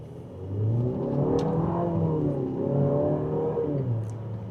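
A 2027 Infiniti QX65 Autograph pulls away from a stop, its engine note swelling and climbing through the revs, heard loud from inside the cabin with no one talking.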